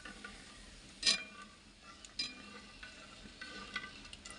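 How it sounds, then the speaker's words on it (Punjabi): A ladle stirs full-cream milk in a pot on a stove, giving a faint, soft scraping swirl with a few sharper metallic ticks as it touches the pot's side, plus a low simmering hiss. "ਉਨੀ ਦੇਰ ਤੱਕ ਆਪਾਂ ਕੜਸੀ ਇਦਾਂ ਹੀ ਫੇਰਦੇ ਰਹਾਂਗੇ ਜਿੰਨੀ ਦੇਰ ਤੱਕ ਆਪਣੇ ਦੁੱਧ ਨੂੰ ਵਾਲੀ ਨਹੀਂ ਆਉਂਦੀ"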